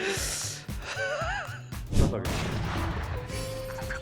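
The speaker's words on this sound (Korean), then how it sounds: "섬광탄" A flashbang grenade detonates in a first-person shooter video game: one sharp, loud burst midway through, surrounded by game effects and a player's voice with a gasp.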